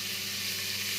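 Butter and oil heat in a cooking pot for rice with vermicelli, a continuous close hiss of sizzling fat with a low steady hum beneath and no talk.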